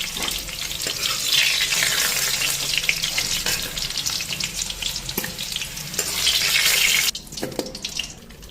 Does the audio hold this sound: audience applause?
no